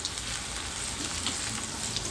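Chopped onions fry in hot oil after garlic paste, making a steady, even sizzle with soft crackle throughout, close and moderately loud with no talking.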